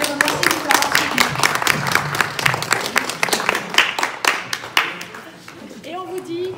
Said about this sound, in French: j'ai envie qu'on applaudisse nos téléspectateurs